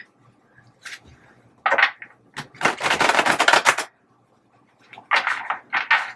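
Bursts of crisp, rapid riffling as a deck of cards is shuffled up close, several separate flurries with short pauses between them.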